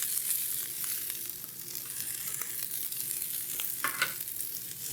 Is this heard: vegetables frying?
yes